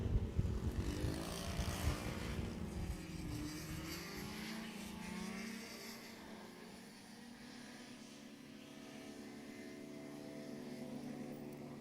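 A racing hovercraft engine roaring loudly up close and then receding, with a droning propeller pitch that sweeps downward as the craft passes and fades into a steadier, quieter drone at an outdoor race meeting on a farm course.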